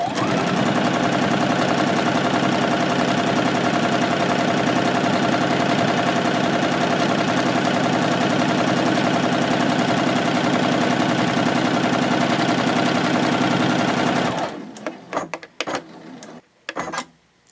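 A sewing machine runs a long, steady, loud stitching pass along the edge of a fabric basket, its rapid even whir unbroken for about fourteen seconds. It then stops, leaving a few scattered handling clicks.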